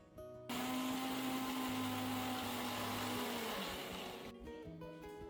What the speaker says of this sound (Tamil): இஞ்சி, பூண்டு, தக்காளி இது எல்லாமே சேர்த்து அரைக்கலாம்